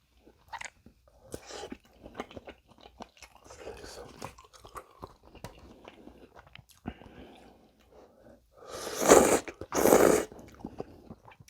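Chewing and crunching of a Korean dish that combines Kaguri noodles with Jikkudak chicken, prepared with milk instead of water. Soft, intermittent mouth sounds run throughout, with two louder, close crunchy bites near the end.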